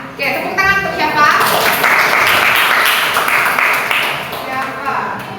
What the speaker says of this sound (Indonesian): tepuk tangan untuk siapa?